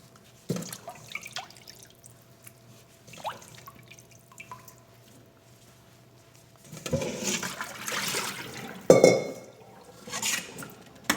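Tap water runs and splashes while raw chicken wings are rinsed by hand in a kitchen sink, with drips and a few clinks in between and louder splashing bursts toward the end.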